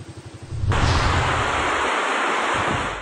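Loud, steady roar of wind-driven rain during a typhoon in Tawi-Tawi, a broad rushing wash that swells in abruptly after a brief low pulsing start and then holds constant.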